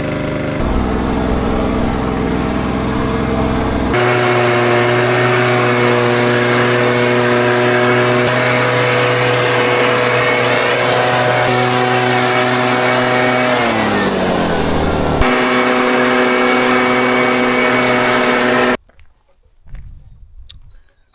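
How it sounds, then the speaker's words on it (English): A two-stroke leaf blower with too much two-stroke oil, trailing blue smoke, runs loud and steady at close range. Its note rises to a higher whine after a few seconds, dips briefly near the end, then cuts out to near silence. "It's quite therapeutic, blowing leaves about."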